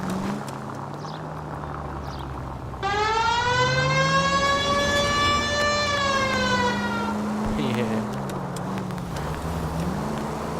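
Wailing police car siren from the video game L.A. Noire, rising and falling loudly for several seconds over a steady engine drone and road noise, then cutting off.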